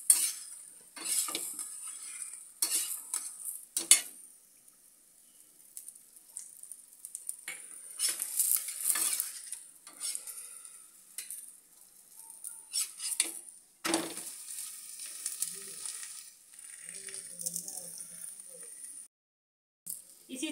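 Aloo paratha frying in oil on a pan sizzles in uneven bursts, mixed with metallic clinks and scrapes of a utensil against the pan, and short quiet gaps between.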